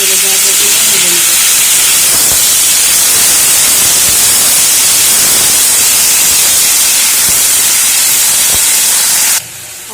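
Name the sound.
yardlong beans frying in a little oil in a wok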